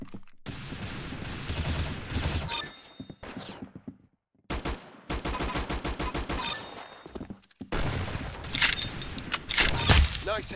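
Gunfire from a first-person shooter video game comes in rapid bursts of sharp shots separated by brief silences, with some quieter game sounds between them.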